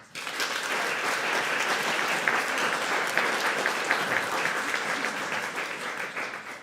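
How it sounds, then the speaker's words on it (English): An audience at an international music competition claps for the finalists, steady dense applause lasting several seconds before it fades. "So a round of applause for them, please."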